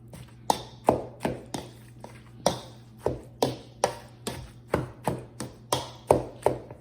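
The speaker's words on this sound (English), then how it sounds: "use my mixing chop to really get in here. Break this up." A Pampered Chef mixing chop breaks up Thanksgiving dressing mixture in a bowl with about fifteen crisp, close taps in a steady, slightly uneven rhythm, each strike distinct against a quiet background hum.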